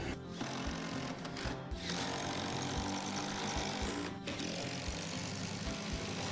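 A quarter-inch nut driver runs 3/8 lag screws into a floor to anchor a steel lift frame, producing close, loud bursts of power-tool whirring and grinding broken by short pauses, with no talking.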